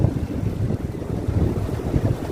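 Steady outdoor wind rushing over the microphone in an open plaza where riders practise fixie and BMX tricks, a continuous low, buffeting roar with no talk.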